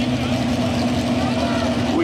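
Pulling tractor engines idling and revving at a truck pull event, a loud steady mechanical drone with a strong low hum throughout, while people talk over it.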